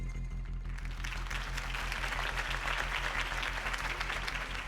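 A crowd at Harvey Dent's campaign rally applauds his speech with steady, sustained clapping and cheering, over a low droning hum that runs throughout.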